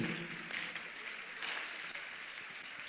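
A church congregation claps for Jesus, a steady, dense wash of applause that swells and holds for a few seconds without a break.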